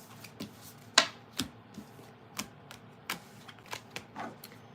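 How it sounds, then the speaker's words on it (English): Tarot cards being shuffled, a string of crisp, irregular flicks and taps at close range, about a dozen light snaps with one sharper hit early on, quiet and with no talking. "I'm going to shuffle"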